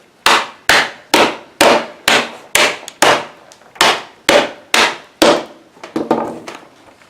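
A hammer knocks cut pieces of scrap wood board out of a clamped workpiece, giving about a dozen loud, sharp wooden blows in a steady rhythm, each with a short ringing decay, and no talking.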